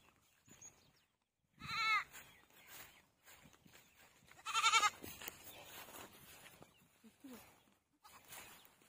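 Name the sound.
goats bleating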